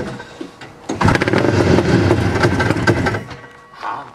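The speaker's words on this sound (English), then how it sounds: "1971 Eskimo RT2 race sled" A 1971 Eskimo RT2 race sled snowmobile engine cranks and catches with a loud, rough, sputtering roar that runs unevenly for a few seconds before faltering and dropping away.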